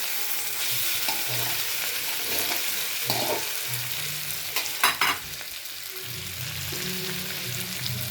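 Pumpkin pieces fry in a hot pan with a constant sizzle, broken by the scrape and clatter of stirring, including a sharper burst of knocks midway.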